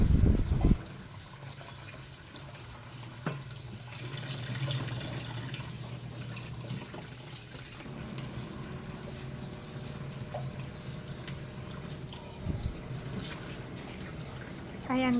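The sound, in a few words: washing fish under running tap water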